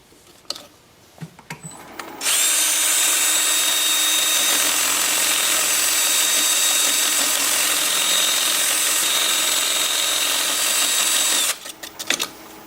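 A drill-driven 150 grit sanding disc works the inside of a wood-turned hollow form. It spins up with a loud, steady whirring grind that runs unbroken for about nine seconds, then stops, with brief clicks and handling noises before and after.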